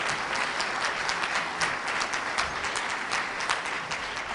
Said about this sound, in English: please give Chief Forward a welcome, a round of applause as he makes his way to the podium